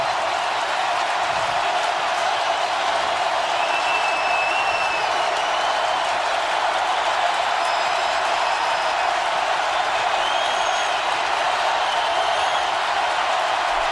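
Stadium crowd at a Saints home playoff game against the Eagles, a dense, continuous roar of cheering and noise that holds steady and loud throughout, with faint whistles cutting through.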